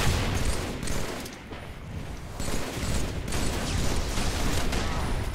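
Gunfire in Halo 3 crackles in rapid, dense bursts with booming hits, loud and near, and fills the battle almost without a break.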